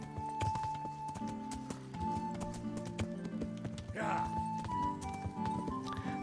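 Hooves of a horse clip-clop along in the medieval game Kingdom Come: Deliverance, a steady rhythmic beat under game music and someone talking over it.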